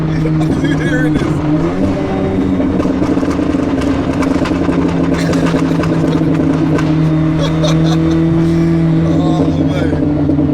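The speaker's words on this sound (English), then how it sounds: "the sound of this car, especially with echoing through these tunnels." A McLaren 765LT, fitted with nitrous oxide, drones loudly and steadily at close range as it runs through a tunnel, the engine note echoing off the walls, with people talking over it.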